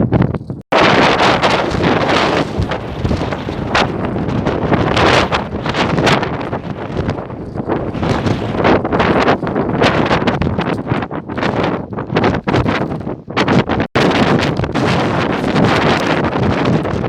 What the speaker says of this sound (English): I'll tell you one thing, it is windy up here today.